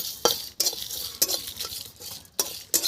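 Cumin seeds fry in sizzling hot oil in a pan while a utensil stirs and scrapes in repeated sharp bursts, close and fairly loud.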